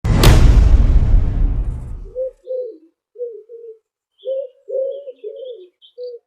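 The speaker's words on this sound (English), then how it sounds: "These beautiful pigeons you are looking at." Pigeons coo in soft, low repeated phrases after a loud whooshing rush fades out, with faint higher chirps above the cooing and no voices.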